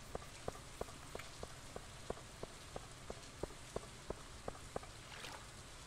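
Steady rain in the farming game Stardew Valley, a soft continuous hiss of rainfall with a regular pattern of faint drip taps, quiet and alone with no voices.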